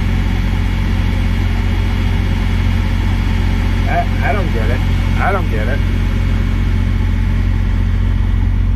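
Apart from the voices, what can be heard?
neighboring truck's diesel engine idling and clacking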